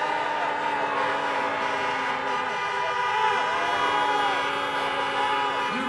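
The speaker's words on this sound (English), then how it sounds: "Pittsburgh, honk if you think it's a bunch of malarkey." Many car horns honk together in a sustained, overlapping chorus at a drive-in campaign rally in Pittsburgh, Pennsylvania, continuing loudly throughout.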